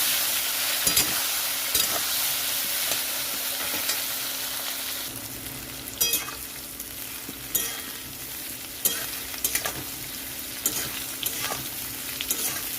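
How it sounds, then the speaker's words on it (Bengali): Potatoes and taro stems fry in a pan with nigella seeds and green chilies, a steady close sizzle broken by repeated scraping and stirring clinks, with no talking. "আলু আর কচুর ডাটাটা একটু ভেজে নিতে হবে এরকম করে"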